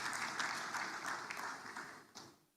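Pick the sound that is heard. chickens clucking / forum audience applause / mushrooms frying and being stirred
forum audience applause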